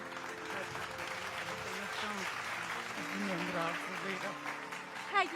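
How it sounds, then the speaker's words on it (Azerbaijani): An audience at a book launch gives steady, sustained applause for a teacher, a dense even clatter of clapping that carries through the whole stretch. "Alqışlayaq Gülçöhrə müəlliməmi."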